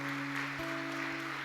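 A church congregation applauds during a sermon: faint, steady clapping with sustained low hum tones running underneath.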